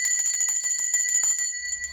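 A notification bell sound effect: a bright, rapid trill of metallic bell strikes ringing steadily at moderate loudness for about two seconds, heard alone without talk.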